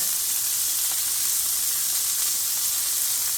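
Vegetables seasoned with salt and pepper sizzle in a pan for Swiss steak, an even, loud hiss that continues without pause.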